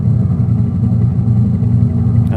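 A helicopter in the background of the video game Payday 2, heard as a steady, loud, low rumbling throb that continues unbroken throughout, with no voices.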